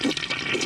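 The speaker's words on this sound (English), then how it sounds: "Let's go ahead and flush it." A household toilet flushing after its float control valve was replaced, a steady loud rush and swirl of water filling the whole short moment with no talk.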